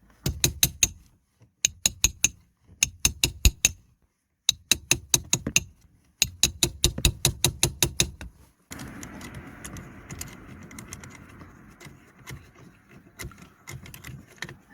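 Mechanical ratcheting from work on the steering lock barrel screw of a VW Golf Mk5, heard as rapid bursts of sharp clicks in several groups. A softer, rougher scraping and rustling follows.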